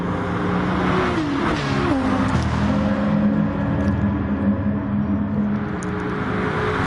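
A race car engine roaring steadily under acceleration in a PS4 racing game, a dense continuous drone with shifting pitch as other cars run alongside, loud and sustained, with no talking.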